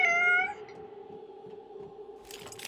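A cat meows in the video game Prey (2017), one loud, clear, tonal meow at the start that fades into a steady low ambient hum, with a brief hiss of noise near the end.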